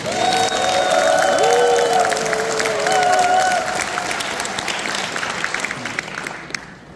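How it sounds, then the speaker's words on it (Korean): Warm applause from a crowd at a ceremony for a desertification-prevention campaign and promotion event, loud and continuous with a few cheers and voices on top, gradually thinning out toward the end. "한 번 더 뜨거운 박수"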